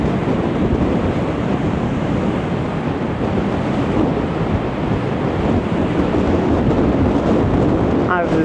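Strong wind batters the microphone on Blackpool promenade, a loud continuous roar with rumbling gusts and no letup.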